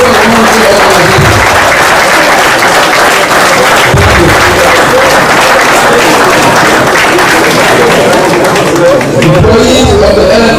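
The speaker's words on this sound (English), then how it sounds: "we appeal to members of Congress to give them a round of applause for such a beautiful and wonderful organization" Members of Congress applaud, sustained loud clapping from a large crowd in a hall that holds steady throughout, with faint murmurs underneath.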